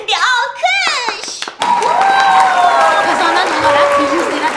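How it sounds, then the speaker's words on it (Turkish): A group applauds the young girl serving as game moderator during a home challenge game; clapping and crowd noise follow a brief stretch of talk, continuing steadily under voices. "Moderatörümüz için bir alkış"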